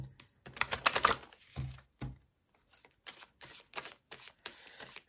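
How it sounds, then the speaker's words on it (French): Tarot cards are shuffled close by in quick, crisp riffling bursts with short gaps between them, and no talking. "Allez, on mélange les cartes."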